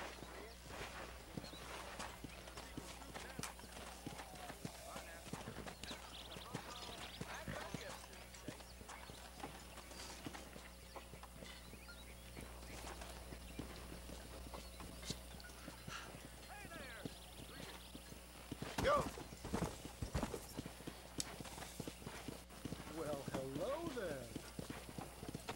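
Horse hooves clip-clop at a steady walking pace in Red Dead Redemption on PS3, moderately loud and close, running under a voice talking over the gameplay throughout.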